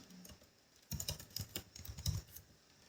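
Keystrokes on a computer keyboard while entering Kotlin code, a quiet run of light clicks in two short bursts after a near-silent start, fairly close and alone.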